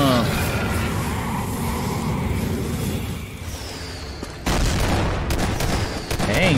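Gunfire from an animated Skibidi Toilet episode, dense bursts of rapid shots and booms that are loud and continuous, with a short drop in the middle, while people talk over it.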